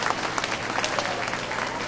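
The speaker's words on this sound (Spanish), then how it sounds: "Yamilet, la reina de la alegría, Juliana, también un aplauso para ellas" Audience applause at a live comedy impersonator show, a dense, steady burst of clapping that fills the whole moment without a break.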